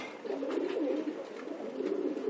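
Homing pigeons coo in a loft, a soft, close, continuous burbling of overlapping low calls.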